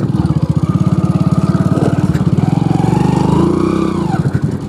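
A motorcycle rides off-road along a riverside in first gear, its engine chugging in a steady, close, loud pulse that rises briefly into a higher rev near the end.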